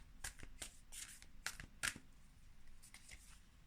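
Moonology oracle cards being shuffled up close: a run of quick, crisp riffling and flicking bursts with brief pauses between them, fairly quiet, with no voices.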